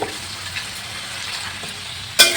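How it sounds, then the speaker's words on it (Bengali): Fried cauliflower pieces sizzle steadily in a hot pan, then a sharper, louder hiss bursts out near the end as water is poured in. "এখন আমি একটু জল দিয়ে দিলাম"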